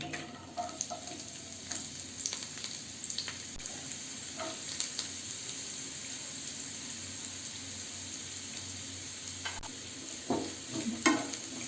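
Carrots stir-fry in hot oil for restaurant-style Hakka noodles, giving a continuous close sizzle with irregular scraping and clinking as the pan is stirred.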